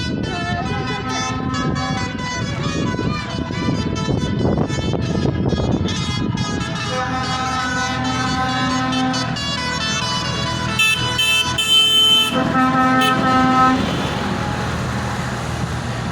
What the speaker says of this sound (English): Astra delivery truck just ruined the entire scene.